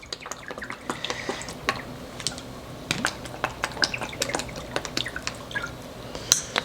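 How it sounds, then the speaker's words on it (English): Worcestershire sauce poured into a tablespoon in a home kitchen, a run of small close drips and splashes with faint clinks, quiet and without talk. "Then we need 2 tablespoons of Worcestershire sauce."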